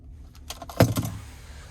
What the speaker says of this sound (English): here's the key fob with remote start